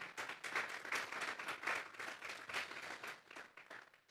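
A church congregation applauds steadily and enthusiastically during a Spanish-language sermon on the resurrection. Many hands clap in a loosely rhythmic pattern, moderately distant, and the applause fades slightly toward the end.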